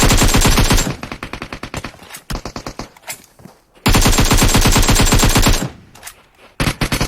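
Automatic gunfire in the mobile shooter PUBG Mobile on the Livik map, loud rapid bursts of rattling shots, a long burst, several short scattered volleys, another sustained burst, then more sharp shots, close and without talk.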